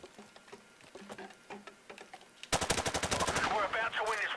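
Rapid automatic gunfire from a first-person shooter game in a cage match, starting abruptly halfway through as a loud, dense burst of closely spaced shots, following a quieter stretch of scattered game sounds.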